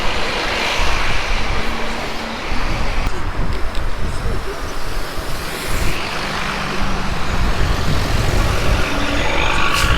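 City buses in Boca del Rio, Veracruz, rumbling past on a busy street: continuous loud low engine roar and road noise with swells as vehicles go by, mixed with general traffic.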